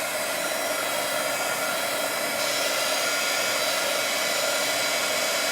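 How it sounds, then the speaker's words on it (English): A heat gun blows steadily to dry a watercolor painting, a loud continuous airy whoosh with a constant high hiss that holds evenly throughout, close and alone with no voices. "Now I happen to have a heat gun,"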